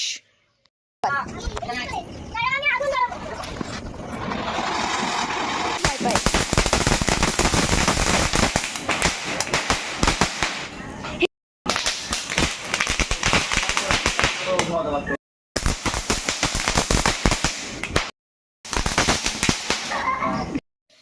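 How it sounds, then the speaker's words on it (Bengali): Firecrackers for a Kali Puja celebration burst loudly and in rapid, crackling runs, with a few short gaps between volleys, while some damp duds only fizz briefly; voices talk faintly underneath. "কিছু কিছু ড্যাম পড়া বাজিও আমাদেরকে দিয়ে দিয়েছে। তো সেগুলো বেশি ফাটছে না"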